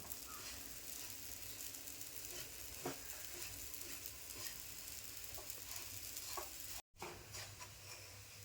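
Ragi flour mixture with milk dry-roasting in a pan, a soft continuous sizzle with faint scraping stirs and occasional small taps of the spatula, close and fairly quiet.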